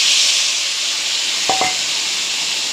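Gutchi fish fry in hot white oil, a close, steady sizzling hiss throughout, broken midway by a couple of quick utensil clicks.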